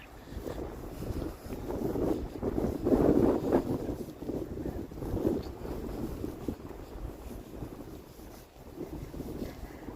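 Steady wind on a November day in uptown Halifax, Canada rumbles and buffets across the microphone for the whole stretch, a low continuous roar with gusty swells and no voices.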